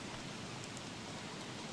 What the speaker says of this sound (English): Oh, I guess it's raining too hard for the umbrella.